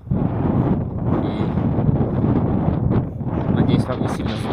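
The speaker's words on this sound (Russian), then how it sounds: "надеюсь, вам не сильно сдувает, потому что ветер." Strong wind blows across a Brooklyn street in New York, roaring steadily into the microphone throughout with gusty low rumble, loud and close.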